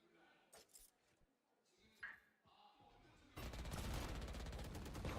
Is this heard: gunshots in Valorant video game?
yes